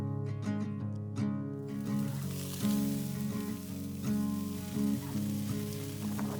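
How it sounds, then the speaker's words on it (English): Steady crackling sizzle of triggerfish fillets frying in hot oil, continuous and close, with a low tonal hum running underneath throughout. "drop in those fillets and let them sizzle"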